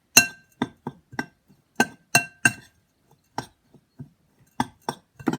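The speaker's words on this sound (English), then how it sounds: "give it all a good mix together and add your egg and stir it all up" A spoon clinks against a bowl while an oat bake mixture is stirred together with egg, a series of sharp, close taps and scrapes in an irregular rhythm with short pauses.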